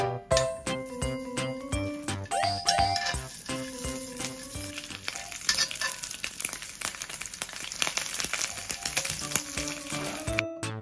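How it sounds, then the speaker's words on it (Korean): Scored sausages frying in an oiled pan, a steady close sizzle broken by frequent clicks and metallic taps of a utensil turning them, with a musical backing running underneath and no talking. "팬에 기름을 두르고 맛있게 구워봅니다"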